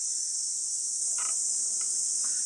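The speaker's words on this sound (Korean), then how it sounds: "여러분 매미 소리 들리시죠?" A high, steady summer drone of cicadas on Dodubong hill in Jeju fills the air continuously, with a few faint brief sounds beneath it.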